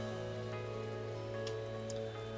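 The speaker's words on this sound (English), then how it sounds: "we're left listening to the rain once more" Steady rain falls in a visual novel game scene, a soft, continuous patter with a few faint drip accents, even and unbroken over a couple of seconds with no voices.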